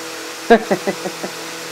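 A vintage Sunbeam knockoff oscillating desk fan runs on high, its steady motor hum droning underneath while a voice speaks a few short bursts over it.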